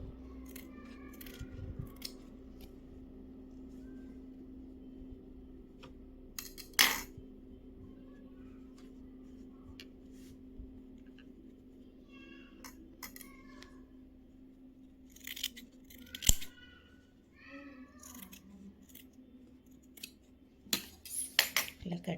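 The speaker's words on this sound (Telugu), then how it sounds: "ఇలా కట్ చేసుకోవాలి." Scissors snip through cloth and its lining to cut out a square for a handbag made from waste clothes, giving scattered crisp cuts in short bursts over a low steady hum, close and fairly quiet.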